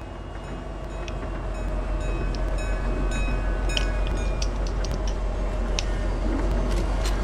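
A train passes close by with a steady, loud rumble of wheels and cars, broken by scattered high metallic squeals and clicks from the rails.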